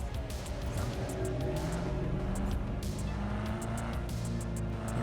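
A car engine drones steadily in the Cyberpunk 2077 game world, with a continuous low hum and faint shifting pitch tones under a constant mix, no talk.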